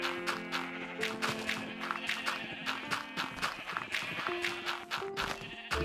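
Sheep bleating in Minecraft, repeated short bleats and in-game footstep sounds over steady background game music, moderately loud and continuous.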